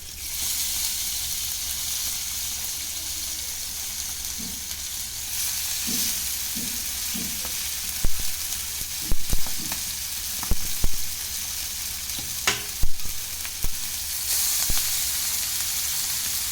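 Rock fish pieces frying in hot oil in a pan, a steady loud sizzle throughout with scattered clicks and clatter of pieces being placed and moved, close and without talk.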